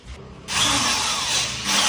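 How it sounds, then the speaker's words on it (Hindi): Electric drill cutting into a wood board screwed to a cutting template, a short low rumble that jumps into a loud, steady whining grind for about a second and a half, heard alone. "और फिर इसको इस ड्रिल से कट करना है, और फिर ये ऐसा कट जाएगा।"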